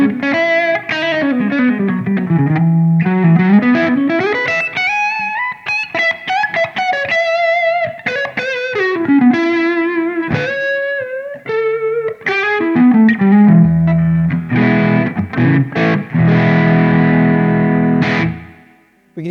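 A Strandberg Boden electric guitar on its neck humbucker runs through a distorted amp, playing bending melodic lines and sustained notes, then heavier chords near the end, with no talking.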